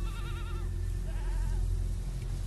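Goats bleat in wavering calls, several overlapping near the start and another at mid-clip, over steady low rumbling background noise outdoors.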